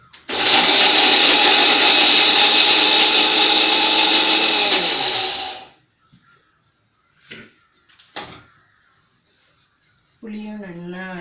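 A mixer grinder whirs loudly and steadily for several seconds grinding spices into powder for puliyodharai podi, then cuts off, followed by faint clatter and a voice speaking.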